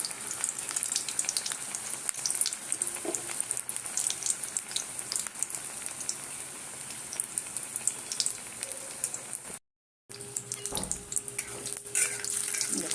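Soybean and potato chops frying in a shallow layer of oil, a steady close hiss and crackle with a brief silent gap near the end, no talking.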